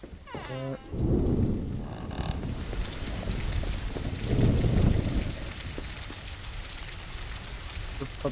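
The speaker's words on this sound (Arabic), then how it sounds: "حلو البرق ده." A thunderstorm with lightning and heavy rain in a horror video game: steady rain pours throughout while two deep thunder rumbles swell, one early and one midway.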